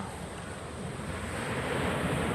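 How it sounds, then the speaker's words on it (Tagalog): Sea waves wash up on a beach at night in a steady, rushing surge with wind buffeting the microphone, with no voices over it. "So nandito kami sa tabing dagat."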